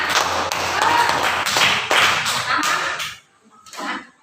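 A classroom group claps hands in a dense, lively burst of sharp, overlapping claps lasting about three seconds, then stops abruptly and a voice briefly speaks.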